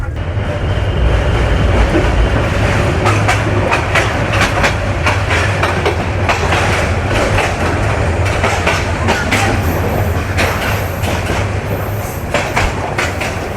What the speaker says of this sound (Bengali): দেখতে দেখতে কসাইবাড়ি রেল ক্রসিং অতিক্রম করলো বুড়িমারি এক্সপ্রেস।